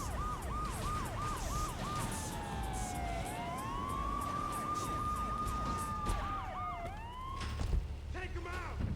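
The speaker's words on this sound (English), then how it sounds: "Police car." A police car siren wails in Grand Theft Auto 3, rapid yelping cycles turning into long rising and falling wails over steady traffic and engine noise, moderately loud and continuous, with a brief voice in the background.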